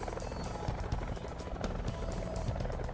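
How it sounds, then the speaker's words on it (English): A helicopter in Call of Duty Blackout approaches with a loud, steady rotor thump and engine whine, its rhythmic beating pulses dominating throughout. "I hear the helicopter coming in"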